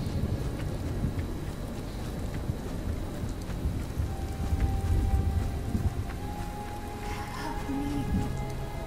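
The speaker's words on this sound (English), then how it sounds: "I'm gonna enjoy the rain somewhere where it's not scary as fuck" Steady rain pours through a video game forest setting, with a low rumble of thunder rolling beneath the constant downpour, loud and continuous without any talking.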